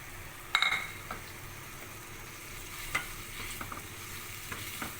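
Okra being stirred into a yogurt masala gravy in a pan, with a soft steady sizzle, a sharp utensil clink against the pan near the start and another scrape later, no talking.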